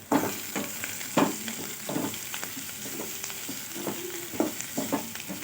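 Crushed garlic and onion sautéing in a pan for a wedding-style Tamil potato kootu, a quiet sizzle under repeated spatula knocks and scrapes arriving every second or so.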